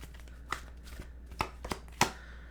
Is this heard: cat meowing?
no